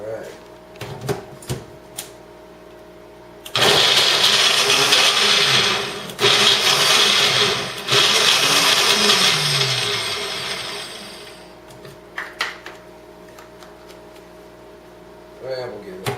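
A blender grinds banana for a pie in a loud, steady roar lasting several seconds, briefly dipping between bursts, with people talking before and after.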